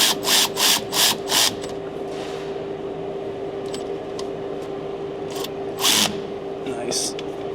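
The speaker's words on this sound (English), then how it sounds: "I like having the long neck, high speed quarter drive ratchet, because it really helps when you're doing these jobs" A long-neck high-speed quarter-inch drive ratchet spins in four quick bursts on a 2011 Ford F250 truck in a barn, then runs in one more short burst later over a steady background hum.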